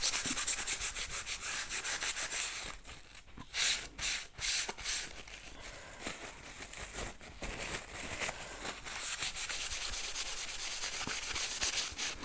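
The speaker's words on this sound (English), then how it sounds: "And then we just want to kind of rub it in and rub off the excess." Kitchen roll rubbed over a paper art journal page, a close, steady scratchy rubbing and swishing that pauses briefly midway before resuming continuously.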